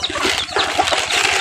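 Chickens feeding on scattered corn in a Javanese village yard, with soft clucking and pecking throughout under steady outdoor background noise.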